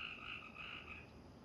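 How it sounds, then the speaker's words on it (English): A frog near a concrete pour at a home construction site croaks in faint, raspy pulses that rise and fade over about a second against a quiet background. "It's a frog."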